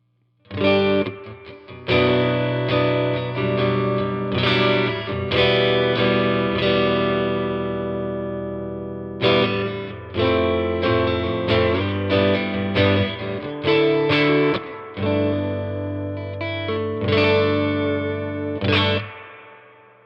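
Twangy electric guitar chords and notes played through a hand-wired Vox AC4 amp, each strike trailing off into a splashy, wobbling spring reverb wash.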